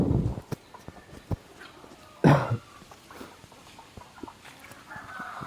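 Country chickens cluck in short, scattered bursts in a quiet farmyard, with one louder call standing out near the middle and faint clucks continuing around it. No one speaks.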